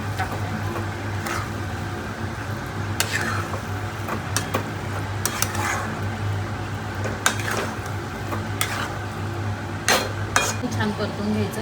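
Carrot halwa being stirred and sautéed with milk in a pan, a utensil scraping and clinking against the metal now and then over a steady low hum and soft background noise.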